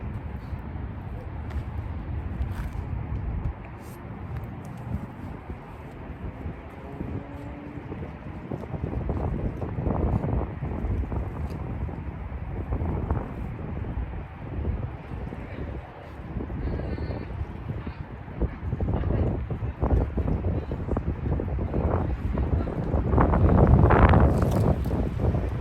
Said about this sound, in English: Just mindful of this wind, y'all.